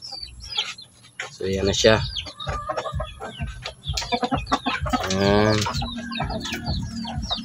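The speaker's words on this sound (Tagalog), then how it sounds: "Yan yung manok natin." Native backyard chickens cluck and chirp close by in short bursts while someone talks over them at times.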